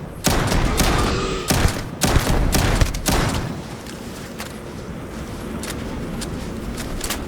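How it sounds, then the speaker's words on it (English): A turret firing in a video game, blasting sharp, loud bursts of rapid shots in quick clusters for about three seconds, then easing into scattered fainter pops over a rumbling background. "Looks like a turret."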